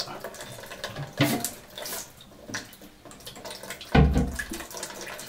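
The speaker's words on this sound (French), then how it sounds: "Termine de vider l'eau qu'il y a dans la cuve." Water is scooped and poured out of a toilet cistern during a flush mechanism repair, giving intermittent close splashes and sloshes with a louder gush near the end.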